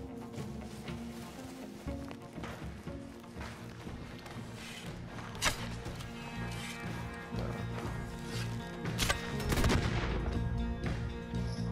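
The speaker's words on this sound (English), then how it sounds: "Who dares to shoot me from a distance with a varmint rifle?" Distant varmint rifle gunshots in the Red Dead Redemption 2 online game, scattered sharp cracks over a busy, rumbling game soundscape with no talking.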